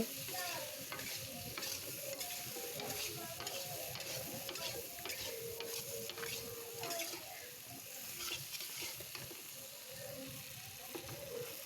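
A potato mixture fries in a pan while being stirred, a continuous soft sizzle overlaid with frequent scraping strokes at a steady rhythm, fairly quiet with no talking.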